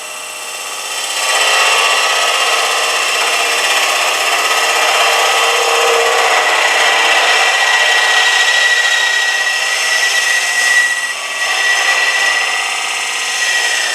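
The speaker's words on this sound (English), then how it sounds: "So I'm just going to go a straight shot down the wall to get a smoothing cut here." A Lyle Jamieson hollowing tool makes a smoothing cut along the inside wall of a wooden form on the lathe, giving a steady, even scraping hiss that holds for most of the stretch and then briefly dips.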